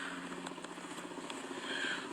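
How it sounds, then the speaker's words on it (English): Helicopter flying overhead, a distant rotor drone with a faint rhythmic chop, continuous and fairly quiet over a short stretch with no talking. "There's another helicopter"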